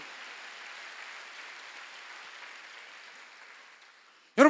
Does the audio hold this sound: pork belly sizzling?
no